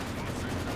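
Werfer rocket barrage in Company of Heroes pounding a German position: a dense, continuous roar of overlapping blasts and rumble, loud and unbroken for the whole short moment.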